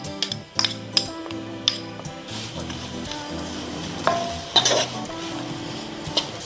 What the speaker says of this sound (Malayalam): ഇതെല്ലാം കൂടിയും ചേർത്ത് നമുക്ക് നന്നായിട്ട് വഴറ്റിയെടുക്കാം